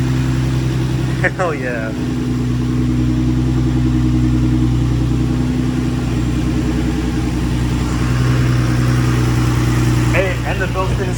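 An Infiniti G35 with a G37 front end conversion fires up after six weeks sitting, then settles into a loud, steady close-up idle, with brief exclaiming voices near the start and end.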